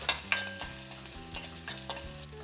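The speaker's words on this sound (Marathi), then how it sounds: "आता आपण ह्याच्यामध्ये एक चमचाभर हिंग लाल मिरच्या आणि थोड्याशा हिरव्या मिरच्या घालूयात आणि हे हलवून घेऊयात" Asafoetida with red and green chillies fries in hot oil as a spoon stirs the pan, making a close sizzle with repeated scraping strokes and clinks.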